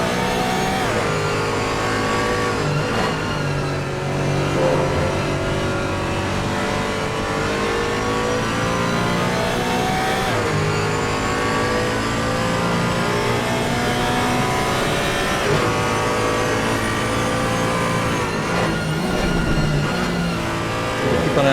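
Several GT4 race cars battling at Donington Park roar continuously, with layered engine notes rising and falling as they rev and shift, loud and sustained with no break.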